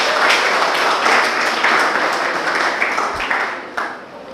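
An audience of students in a lecture hall breaks into loud, dense applause that holds strong and then thins and fades toward the end.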